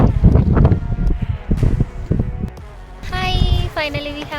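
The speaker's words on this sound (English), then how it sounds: "It's so much cold wind." Cold wind buffets the microphone on a hill trek beside a black pond, a heavy, gusty low rumble filling the clip, with voices talking briefly near the end.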